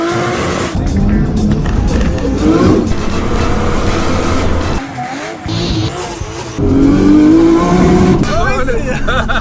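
Audi A3 1.8T turbo engine with a repaired boost issue accelerating under boost, loud and close, rising through revs with shifts and tire noise, while a person talks over it.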